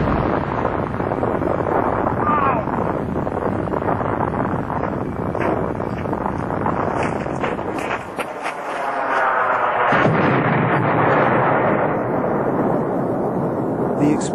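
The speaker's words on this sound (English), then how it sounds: "the fourth and largest explosion erupts from the factory." A massive factory explosion heard from afar as a sustained, loud roaring rumble mixed with heavy wind buffeting the microphone, lasting many seconds.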